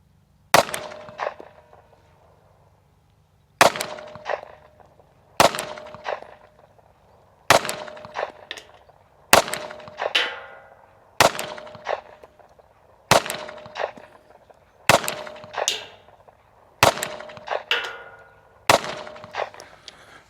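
A SIG P365 SAS pistol fires ten sharp shots at a rubber target outdoors, each loud crack followed by a ringing clang and short decay, spaced roughly two seconds apart.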